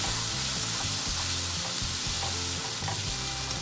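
Thattukada-style vegetable curry masala frying in oil in a pan, with a steady, close crackling sizzle and occasional stirring scrapes running throughout, no voices.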